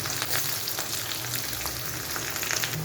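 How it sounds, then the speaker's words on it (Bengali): Two sliced onions fry in hot oil tempered with dried red chilli, bay leaf, cumin and whole garam masala, giving a loud, even, close sizzle with faint stirring scrapes throughout. "পেঁয়াজ দিলাম দুটো কেটে"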